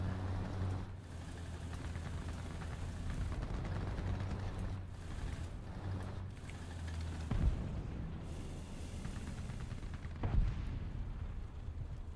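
Rocket explosions in a video game, several dull booming blasts spaced a few seconds apart over a steady low rumble, moderately distant and fairly faint.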